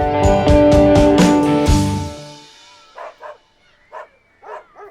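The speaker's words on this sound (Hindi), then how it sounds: "कुछ आवारा कुत्तों को एक कटीली झाड़ी के सामने भौंकते हुए देखा।" Stray dogs barking repeatedly in front of a thorny bush, a rapid burst of loud barks with music underneath at first, then several separate yips and barks spaced out over a quieter background.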